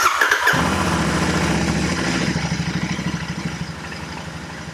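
A Royal Enfield Interceptor 650 motorcycle engine cranks briefly and fires up close by, then settles into a loud, steady idle with a regular pulsing beat and no talking.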